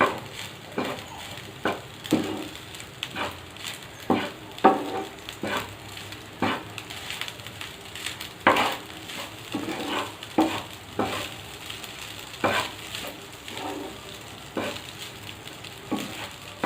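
Paneer fried rice tossed and mixed in a pan with pepper powder, rhythmic scraping and knocking of a spatula over a light sizzle, close and fairly loud with no talking.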